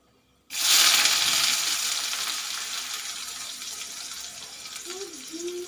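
Cumin, mustard seeds, bay leaf and whole spices hit hot oil with a sudden loud hiss, then a steady sizzle that fades slowly, close by, with no talk.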